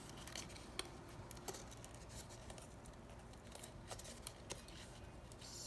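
Scissors snipping an extra paper piece off a megaphone craft cutout: a few faint, sparse snips and soft paper rustles, close and quiet, with no talking.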